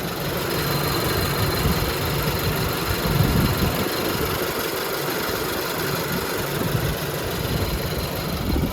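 A petrol 1.6 engine in a Renault Grand Scenic idles steadily and evenly, a continuous low rumble with mild vibration throughout, heard up close with no talking.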